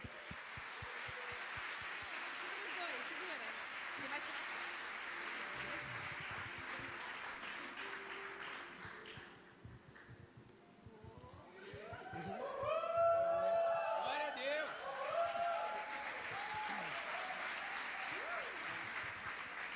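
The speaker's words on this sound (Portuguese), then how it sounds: "Dá um aplauso em nome de Jesus" A church congregation applauds during an evangelical service, sustained clapping that dips briefly midway, then swells loudly with cheering voices before settling into steady applause.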